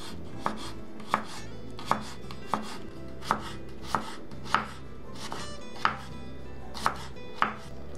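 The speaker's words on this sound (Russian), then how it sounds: "Капусту порезать тонкой соломкой." A knife chops cabbage into thin strips on a board, about a dozen sharp, evenly spaced cuts landing roughly every half second, close and clear with no talking.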